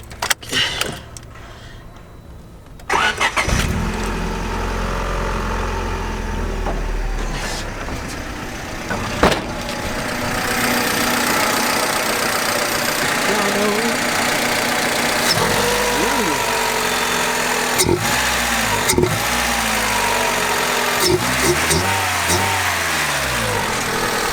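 A modified Honda Civic engine cranks and catches after a few seconds, then settles into a steady, rumbling idle with a brief rev, recorded close.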